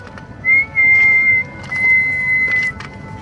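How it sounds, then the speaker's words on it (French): Person whistling a steady tone over a CB radio link as a signal report, several sustained whistled notes heard through a noisy, hissy radio channel. "Je te fais la sifflette pour le report."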